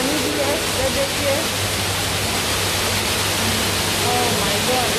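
Water flowing inside a cave in Singapore Botanic Gardens: a steady, loud broadband rush like a small waterfall filling the whole stretch, with a faint voice briefly underneath.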